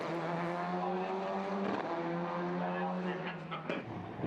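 A rally car on a tarmac street sprint stage at Rally Otago, its engine holding a loud sustained tone near by, then a brief change and tire noise toward the end.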